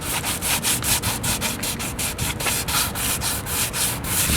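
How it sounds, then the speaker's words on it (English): Flat sanding sponge rubbed over car body paint on a BMW E30, a close, loud, rhythmic scraping with quick back-and-forth strokes repeating steadily. "With a flat piece of sanding sponge, you just go over it and it'll help keep everything nice and even."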